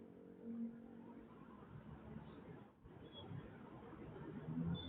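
Road traffic on Marcos Highway, heard from inside a moving vehicle: a steady low broadband rumble of passing cars with a brief dip midway, and faint voices and chirps under it.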